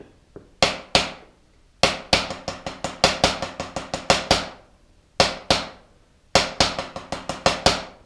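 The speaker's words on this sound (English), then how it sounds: "we're just playing a dotted quarter rhythm followed by the 6-stroke rolls" A drum is struck in sharp, close, ringing hits, a dotted quarter rhythm of spaced accents leading into quick clusters of six-stroke rolls, repeated in phrases with brief gaps.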